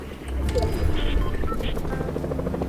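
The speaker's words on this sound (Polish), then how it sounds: "Helikopter." Helicopter in the Fortnite video game, a steady rotor chop and engine drone close and loud throughout, with players talking over it.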